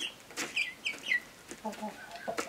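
Zlaja, a handsome feather-footed rooster, clucks in several short bursts near the listener, with other barnyard fowl faintly in the background.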